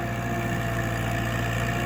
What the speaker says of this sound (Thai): คูบูต้าอีกแล้วนะครับผมรถไถนะครับผม